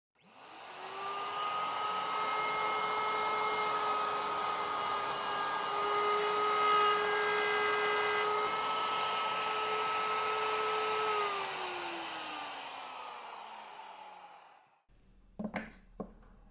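Router or mortising machine cutting a deep mortise in walnut for a modern sideboard: a steady loud motor whine holds for about fourteen seconds, then winds down, followed by a few light clicks.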